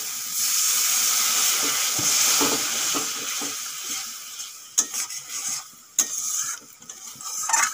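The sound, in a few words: pouring a little water into chicken masala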